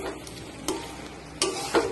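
Pre-fried chicken pieces for chili chicken sizzle in a spiced pan: a continuous crackling fry lasting about two seconds, with a few sharp spatula scrapes.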